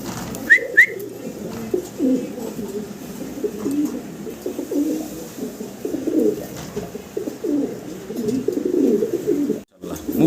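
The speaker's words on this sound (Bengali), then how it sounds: "দেশি কবুতর" Domestic desi pigeons coo in low, rolling bursts, close by and repeated throughout, with a brief higher whistle-like call near the start and soft speech-like murmuring in the background.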